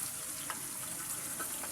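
Rui fish curry cooking on low heat in a pot makes a steady, soft sizzle and gentle bubbling, with faint clicks and pops over a constant hiss.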